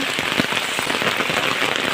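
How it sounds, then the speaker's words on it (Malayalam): Heavy rain pouring in a village, a dense, loud, continuous patter drumming on surfaces nearby with no voices. "സൂപ്പർ മഴ"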